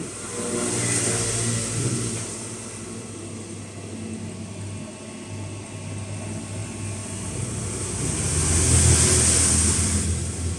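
A car engine revs up steadily under acceleration, a loud, continuous mid-pitched roar that eases slightly midway and then climbs again toward the end, with no voices.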